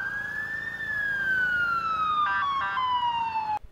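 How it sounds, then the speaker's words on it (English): Emergency vehicle siren on a city street in Toronto, a single long wailing tone sweeping up then gliding steadily down, loud and close, cutting off abruptly at the end. "All the sirens, all the firemen, police, ambulances."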